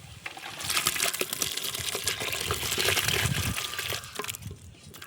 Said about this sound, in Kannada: ನಾನು ಇದಕ್ಕೆ ಈಗ ಬೇಯಿಸಿ ಇಟ್ಕೊಂಡಿರ್ತಕ್ಕಂಥ ತಲೆ ಮಟನ್ ಹಾಕ್ತಾಯಿದ್ದೀನಿ ನೋಡಿ.